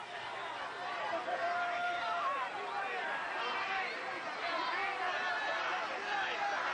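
A wrestling arena crowd at ringside during a WCCW Championship Sports bout, a continuous dense roar of voices and babble, loud and sustained throughout.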